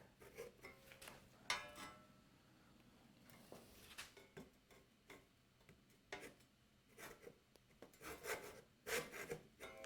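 A hand saw cuts a sliding dovetail kerf in wood, with irregular rasping strokes that start and stop in short bursts, close and fairly quiet.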